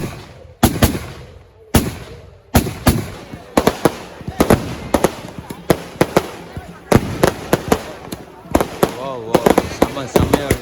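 Firecrackers at a temple festival burst in loud, sharp cracks, some single and some in rapid crackling strings, over about ten seconds, with festival crowd noise and voices underneath.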